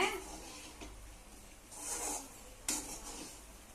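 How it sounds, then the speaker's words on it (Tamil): Masala pasta and gravy being stirred in a pan, with soft scraping and rubbing of a spoon against the pan and a couple of sharper clinks, close and fairly quiet, with no talk. "நல்லா எல்லாமே வந்து சேர்ந்து இந்த பாஸ்தாவோட சேர்ந்து ஆட் ஆகிற மாதிரி நல்லா கிண்டி விட்டுக்கோங்க"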